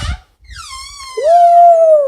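A creaking bathroom door hinge gives one long, loud squeal that rises in pitch and then holds steady, after a brief thump and a short quiet gap.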